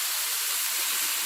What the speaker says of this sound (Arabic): وهحط لها بقى ميه سخنه